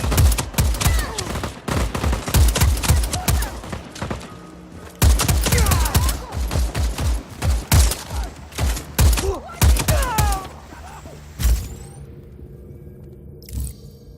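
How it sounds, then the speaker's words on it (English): Rapid bursts of automatic gunfire in Just Cause 4, loud and close, in clustered volleys with short pauses between them. A final lone shot sounds before a quieter stretch. "Opening fire!"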